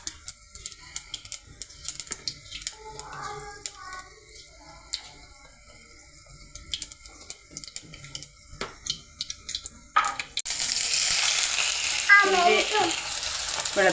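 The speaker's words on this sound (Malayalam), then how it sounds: "ഉലുവയും കടുവും പൊട്ടിക്കഴിയുമ്പം ഇഞ്ചിയും വെളുത്തുള്ളി ഇടാം." Mustard and fenugreek seeds crackle and pop in hot oil with sharp, scattered clicks, then ginger and garlic go in and a loud, steady sizzle takes over for the last few seconds.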